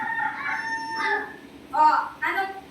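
A rooster crows twice in close succession, loud and near, with a shorter call starting the sequence; no talking over it.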